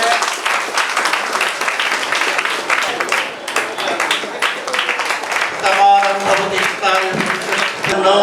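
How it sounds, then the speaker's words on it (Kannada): Audience applause at a Kannada community celebration event for a 300th programme, a steady dense wash of clapping through most of the clip with a voice speaking over it toward the end. "ಚಪ್ಪಾಳೆ ತಟ್ಟಿ ಎಲ್ಲ"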